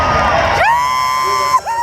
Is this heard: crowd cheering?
yes